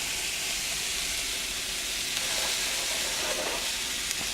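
Sausage stuffing fries in a pan too small for the amount being cooked, giving a steady close sizzle and hiss with brief louder spatters, and no talk.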